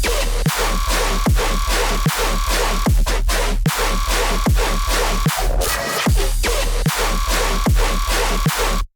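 Heavy dubstep bass with deep sustained sub and rhythmic chugging stabs, loud and dense, punctuated by sharp drum hits, no talking.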